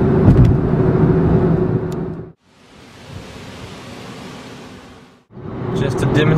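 A Mercedes-Benz E55 AMG with 469 horsepower pulling hard under acceleration, a loud broadband engine and wind roar that cuts out briefly between surges, heard up close.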